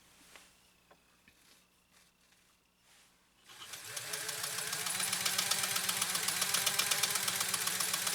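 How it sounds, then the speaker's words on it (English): A PFAFF 130-6 sewing machine fitted with an embroidery kit runs up to speed after a few quiet seconds, then sews a decorative stitch with a steady, fast mechanical chatter, close and continuous. "let's sew our third decorative stitch from this 130-6 using this embroidery kit"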